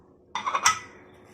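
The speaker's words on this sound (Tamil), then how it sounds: "இப்போ குக்கரை போட்டு மூடிக்கலாம்." A pressure cooker lid set down and closed over chicken, a short cluster of metallic clinks and clanks lasting well under a second, close and fairly loud with no voices.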